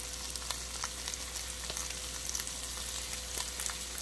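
Grape tomatoes, chopped onion and minced garlic sizzle softly in a pan for a Tuscan salmon sauce, a steady faint crackle with occasional pops and no talking.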